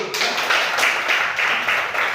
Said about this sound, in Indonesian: Tepuk tangan buat Hasti.